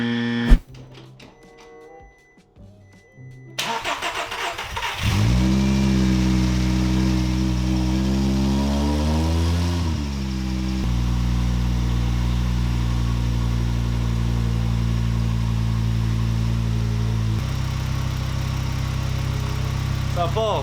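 A restored Volkswagen Rabbit engine cranks and catches, then settles into a steady, close idle with a slight rise and dip in revs.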